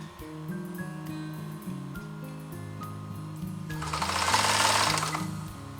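A sewing machine stitches a fabric rice trivet, running in a steady rhythmic hum with a louder, faster stretch near the end, close and clear with no voices.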